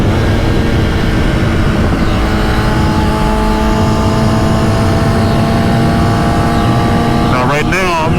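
A motorcycle on Dunlop Q4+ tires corners at about 80 mph, a loud, steady engine roar under heavy wind rush that shifts pitch near the end.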